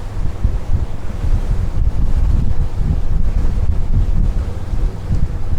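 Prestige M48 motor yacht running at speed through steep waves from several directions, with strong wind buffeting the microphone and a continuous loud roar of water and hull rushing throughout, no voices.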